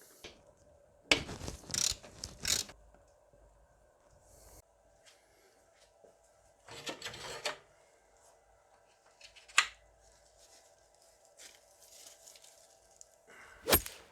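Ratchet working a bolt on the power steering pump of a Mercedes S320 V6 (W220), with a few short bursts of rapid clicking separated by quiet gaps, close and fairly loud with no talking.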